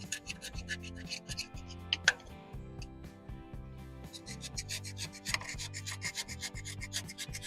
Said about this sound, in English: we can take our gasket scraper and you can scrape all this nice and